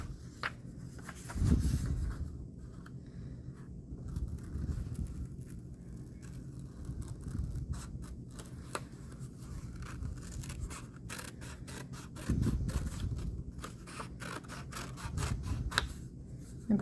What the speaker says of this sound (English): And I'm going to cut my cloud.